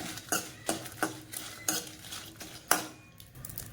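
Dried red chillies fried and stirred in a pan, a series of distinct metallic scrapes and clinks from a spoon against the pan at an uneven rhythm, close and fairly quiet, with no voices.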